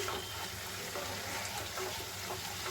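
Water poured little by little into an onion and garlic spice paste for Bengali egg and potato curry, a steady close pouring and sizzling wash lasting the whole moment with no talk.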